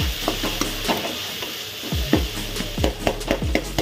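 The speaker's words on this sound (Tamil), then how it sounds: "அதையும் நம்ம நல்லா மிக்ஸ் பண்ணி எடுத்துக்கலாம்." Mushroom pepper fry stirred in a hot pan, with a steady sizzle under repeated scraping and stirring strokes, close and fairly loud, no talking.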